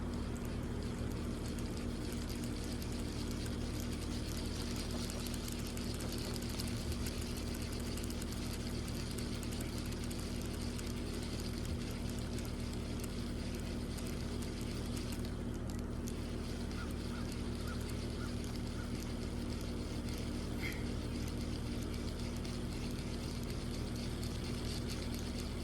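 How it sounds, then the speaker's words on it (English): A spinning fishing reel is wound up with fresh line in a continuous, even whir that runs unbroken for the whole stretch, with no voices. "I'm gonna be here for another minute, just spooling her up."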